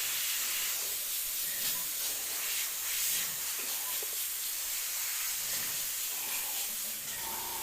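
Airbrush spraying paint onto a leprechaun skull, a steady close airy hiss that runs nearly unbroken throughout with slight swells in intensity, no voices.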